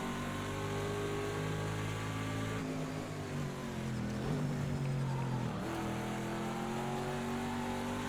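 Chevrolet race car engine from an IMSA GTD Pro race at COTA in the video game Project Cars, droning steadily at mid pitch with quick upshifts and a brief dip in revs midway, close and continuous throughout.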